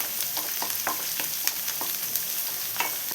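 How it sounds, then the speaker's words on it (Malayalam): Onions and curry leaves fry in a pan for a Kerala-style coconut milk fish curry, giving a steady close sizzle with crackling pops and occasional stirring scrapes, no voices. "ഈ ഉള്ളിയെല്ലാം ഒന്ന് ഒരു ഗോൾഡൻ ബ്രൗൺ കളറാവുന്ന വരെ നമുക്കൊന്ന് ഫ്രൈ ചെയ്തെടുക്കണം"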